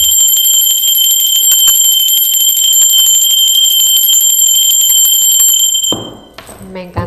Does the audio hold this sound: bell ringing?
yes